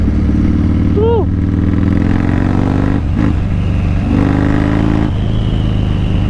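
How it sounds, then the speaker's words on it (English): An engine revs hard through a gear change with no hand on the clutch, a loud continuous roar that rises and falls in pitch, with a voice talking over it. "That wasn't a clutch fuck up. That was me bombing the rev."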